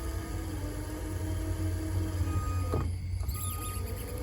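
Motors of a remote-controlled lawn mower driven through a BTS7960 IBT-2 driver, spinning in opposite directions for a tank-style turn; a steady close electric whine and hum with a brief shift near the end, no talk.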